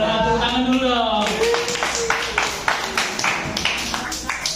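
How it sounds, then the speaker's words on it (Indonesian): A class group claps after a voice prompts it, the applause starting at about one second and continuing as a steady, fairly loud patter of many hands with a few sharper individual claps standing out. "Tepuk tangan dulu dong"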